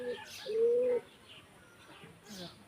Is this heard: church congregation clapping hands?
no